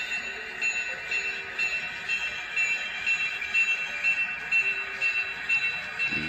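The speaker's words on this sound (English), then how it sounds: "The SD26 pulling the train" A freight train pulled by an SD26 diesel locomotive rumbles past at steady volume, with a low engine drone and a high metallic whine running throughout, no voices.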